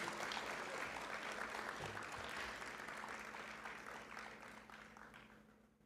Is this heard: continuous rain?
no